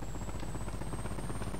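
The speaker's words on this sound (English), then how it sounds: "Helicopters that you can land on water. What is this? Looks like a helicopter on steroids." Helicopter flying in a GTA Vice City mod video game, a steady whirring rotor and engine drone with a thin high whine, continuous and close, with no talking.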